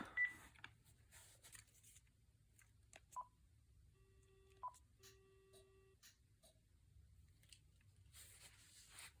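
Panasonic KX-TG4021 cordless phone dialing a call: a series of short DTMF keypad beeps and dual tones spaced a second or so apart, over a quiet low hum with faint handling clicks.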